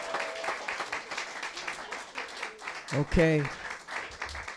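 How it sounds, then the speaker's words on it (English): Audience applause at a live words and music program, a light scatter of claps under a speaking voice, with a brief spoken word partway through. "Give them a nice round of applause"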